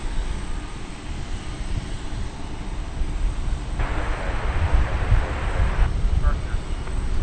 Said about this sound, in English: This looks to be American Flight 1974 going to San Francisco on the Airbus A321neo.